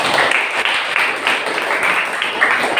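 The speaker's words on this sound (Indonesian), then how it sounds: "Kita beri aplaus ya." Classroom audience clapping steadily for a student group during a practice teaching session, a dense, continuous patter of hands filling the whole stretch without voices.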